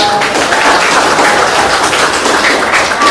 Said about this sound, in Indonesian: Tepuk tangan ke kawan kita atas nama.